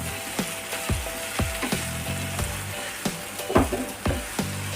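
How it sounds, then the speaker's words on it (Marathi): Chigali leafy greens frying in a pan, a continuous close sizzle broken by regular scraping knocks as the greens are stirred, about two strokes a second, with no voices. "भाजी टाकून घेऊया व्यवस्थित अशी भाजी मिक्स करूया"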